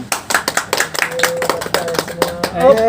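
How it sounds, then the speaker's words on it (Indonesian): Several people clap at a cake-cutting launch for a new T-shirt brand, a quick scattered burst of hand claps over a steady background hum, with brief voices mixed in. "Tepuk tangan dong"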